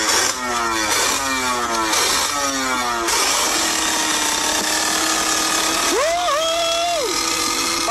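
Motorcycle engine revving hard through repeated rising gear pulls, then holding a steady high drone while the bike rides a wheelie at a steep angle, loud and close throughout.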